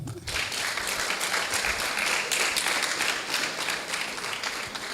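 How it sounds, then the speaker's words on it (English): Sustained applause from an audience at a university debate championship, a dense, steady wash of many hands clapping at a fairly loud, even level for several seconds after a brief quiet start. "Can we still be clapping?"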